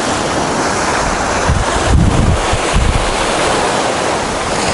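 Surf of the Sea of Azov at Golubitskaya breaking along a sandy, shell-strewn beach, a steady loud wash with heavier wave surges near the middle, buffeted by wind on the microphone.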